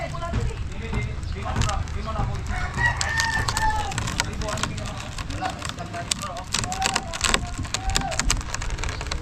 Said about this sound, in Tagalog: Daming ibon na naman oh